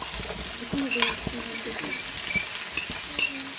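Onions go into a pan for pork chops with apple and mushrooms, bringing soft sizzling and clinking stirs and utensil taps close by, mixed with faint background voice and noise.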